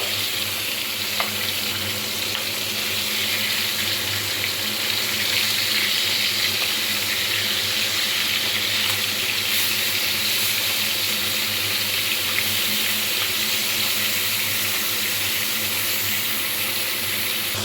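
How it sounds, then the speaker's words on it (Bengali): Steady, dense sizzling of katla fish heads frying in hot mustard oil, continuous and close throughout with no voices. "সবগুলো মাথা কিন্তু খুব সুন্দরভাবে কিন্তু ভেজে নেব"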